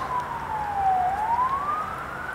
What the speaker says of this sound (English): Another fire truck or something, ambulance maybe.